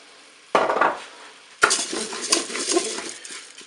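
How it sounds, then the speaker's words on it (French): Dry rice is poured into the metal pot of a Cookeo electric cooker, producing a short rattling clatter, then a longer scraping, stirring spill of grains against the pot with light clinks. "Je vais maintenant ajouter mon riz."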